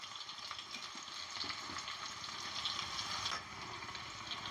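Four dried red chilies frying with sliced onions in hot oil for a tamarind pulusu, a steady dense sizzle with faint stirring scrapes running throughout, no voices.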